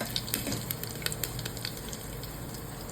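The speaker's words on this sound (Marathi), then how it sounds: "हिंग ॲड केल्यावरती आपण ॲड करूया लसूण" Garlic sizzling in hot oil with curry leaves, asafoetida and cumin for a simple moong dal, a steady close crackling fry with scattered sharp pops, alone without talk.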